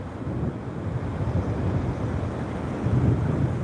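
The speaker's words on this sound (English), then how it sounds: "Okay, I know why there's wind." Wind buffets a microphone on a Florida beach, a steady low rumbling roar that fills the whole stretch, close and continuous, with no voices.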